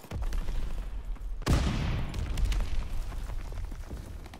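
Suppressing gunfire in the Call of Duty: WWII video game, a rumbling fusillade of distant shots with one loud close blast about a third of the way through, then continuing rattling fire and booms.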